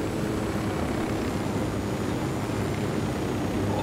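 A helicopter flying in the video game Ghost Recon Wildlands gives a steady, smooth engine and rotor drone, constant in level and without pauses or voices.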